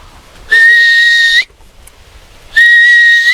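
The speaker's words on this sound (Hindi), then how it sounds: "हम सीटी बजावत है" A person whistles two sustained, steady tones, each about a second long and separated by a short pause, loud and close with no speech.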